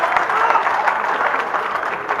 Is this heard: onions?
no